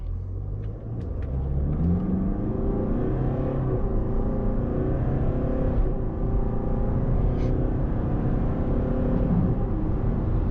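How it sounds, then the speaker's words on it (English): A 2024 Range Rover Evoque accelerates from a standstill, heard from inside the cabin as a steady engine drone and road rumble that builds and holds over several seconds. "So let's try acceleration. We can try from standstill."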